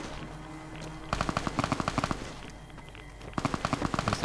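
Enemies open fire in Fallout: New Vegas, loud bursts of rapid automatic gunfire in two long volleys separated by a short lull, punchy and close over a low game backdrop.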